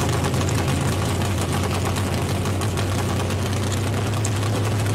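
A car engine in a racing video game drones steadily as the car is driven slowly, a loud continuous low rumble with no break and no talk over it.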